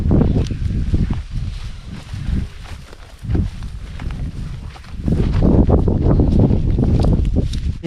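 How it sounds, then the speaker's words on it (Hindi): Wind gusts roar steadily across an open Russian countryside village with no road, buffeting close and loud with swelling surges and a few lulls, mixed with faint rustling and scuffing. "आज बस एक बात है कि हवा चल रही है।"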